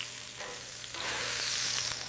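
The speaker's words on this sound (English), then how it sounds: "That sizzle means the wild boar is developing a perfect crust." Wild boar steak searing in a hot pan, giving off a steady, close sizzling hiss that swells louder after the first second and holds without a break.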